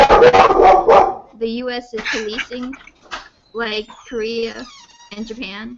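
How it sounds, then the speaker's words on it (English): A dog barks loudly and close by in a burst of rapid barks at the start, then makes whining, yelping vocalizations that alternate with a person speaking nearby. "That's my dog, sorry."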